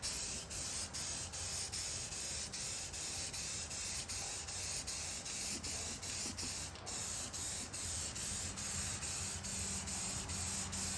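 Black spray paint hisses onto arcade cabinet parts in a continuous close aerosol stream, broken by regular rapid pulses as the can is worked, with no talking.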